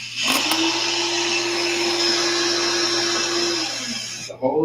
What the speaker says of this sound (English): The hole is drilled.